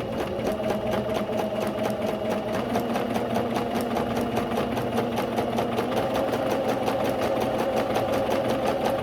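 A sewing machine runs steadily and close, stitching a long straight seam along a tutu skirt layer with a fast, even mechanical whir that never pauses.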